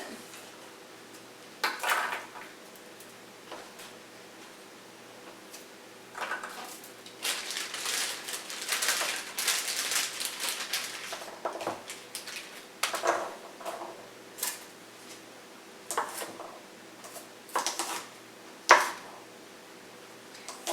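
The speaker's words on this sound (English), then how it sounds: "we're chopping up just some of the larger ones" A knife chops through Brussels sprouts on a cutting board, halving the larger ones in a run of irregular, sharp taps and crunches, fairly close, with quieter gaps between bursts and no talking.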